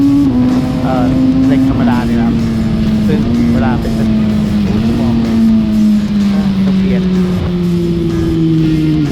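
A 2019 Kawasaki ZX-6R motorcycle engine and exhaust on the move, loud and close with a steady drone that slowly drops in pitch, interrupted by brief gear-change blips, under a rider's talk.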